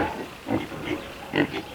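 Piglets in a pen, larger ones bullying smaller ones at feeding, give a few short grunting squeals close by, two louder bursts in under two seconds with quieter snuffling between.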